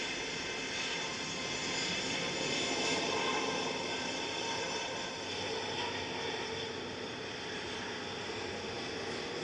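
A jet airliner taxis around Manchester Airport, its engines giving a steady broadband roar throughout at moderate distance. No voices are heard.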